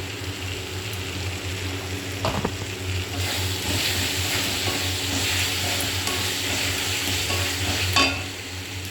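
Spice paste with extra chili powder and ground coriander sizzles steadily in a hot pan while being fried for a spicy crab curry, with stirring scrapes and a brief louder clatter near the end.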